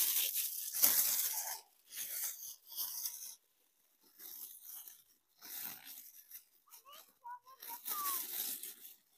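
A thin Mylar emergency blanket being unwrapped and crinkled outdoors, with bursts of sharp crackling and rustling broken by short pauses, fairly close and moderately loud.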